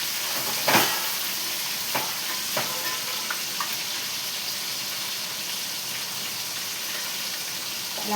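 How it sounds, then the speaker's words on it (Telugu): Fish curry frying in a pan gives a steady, moderately loud sizzle and hiss throughout, broken by a few sharp crackles and clatters near the start. "ఇలా ఫ్రై చేసి"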